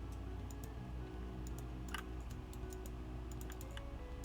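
Soft, rapid keyboard typing and mouse clicks from a computer setup used for Minecraft Bedrock PvP practice, steady ticking taps over a constant low background hum, with no talking.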